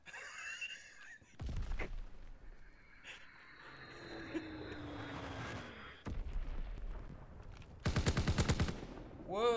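Gunfire in a World War II shooter on the London Docks map, with scattered single shots and then a loud, sharp burst of rapid automatic fire near the end, under low ambient game noise.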